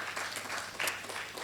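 Audience applause at a foundation event, a brief soft patter of clapping with no voices over it.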